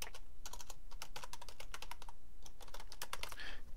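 A server name is typed on a computer keyboard: quick, close, clicky keystrokes come in uneven bursts with short pauses, moderately loud and with no talking.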